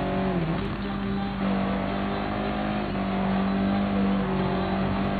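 Audi TT Cup race car engine in the Gran Turismo Sport video game, a steady droning hum that holds through the whole stretch with slight revving rises and falls and no talk.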